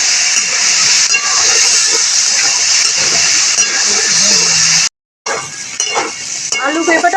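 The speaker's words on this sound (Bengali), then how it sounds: "আলু আর পেঁপেটা একটু ভাজা ভাজা করে নেব।" Cut potato and papaya pieces fry in hot oil in a pan, giving a steady loud hissing sizzle broken by a brief silence, then resuming with scattered clinks.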